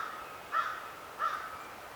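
A crow caws twice, about three-quarters of a second apart. Both calls are faint and distant, with no other sound around them.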